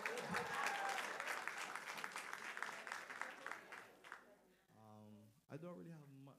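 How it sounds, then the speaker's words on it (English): Applause from an audience at a public lecture on disabilities, a full round of clapping that swells and then tapers off, after which a single voice begins speaking. "Clap for that."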